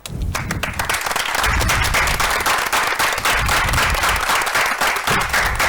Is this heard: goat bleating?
no